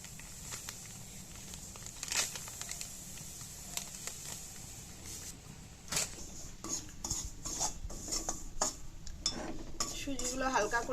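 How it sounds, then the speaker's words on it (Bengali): Dry semolina being stirred in a kadai with no oil or ghee, a spoon scraping and clinking against the metal in irregular bursts, fairly quiet and close, growing busier toward the end. "সুজিগুলো হালকা করে ভাজা করে নেব"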